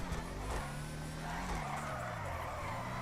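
A racing car engine, Dom's Charger in GTA V Online, drones steadily at high speed with a continuous tire skid and rushing noise, loud and close, with no voices.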